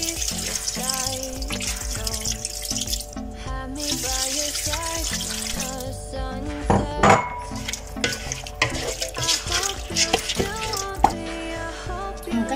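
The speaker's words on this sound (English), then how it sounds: "So I'm going to add water now." Water poured into a pot of turkey pepper soup with lentils, a running splashing pour mixed with stirring and clinks from the pot, close and fairly loud with no talking.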